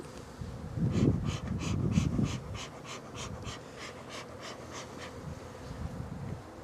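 Honey bees at an open hive, three boxes high and being set up for a cold winter, hum in a low steady drone close by, with soft rustling and handling noises early on and a faint pulsing texture throughout.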